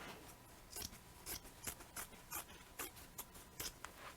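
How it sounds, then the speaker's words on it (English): Scissors snip through a strip of green quilting fabric, a series of crisp, close cuts in an irregular rhythm with brief pauses between strokes, no talking. "I got to open it up, and I'm just going to cut a strip"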